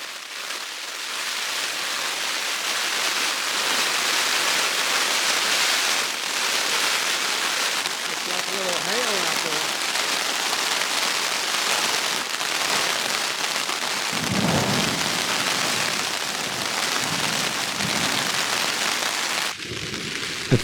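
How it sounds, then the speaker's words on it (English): Heavy rain beats steadily on a tent at a campsite in the Wind River area during a serious storm, a loud, dense hiss throughout, with a few low rumbles of thunder near the end. "we got a pretty serious storm moving through"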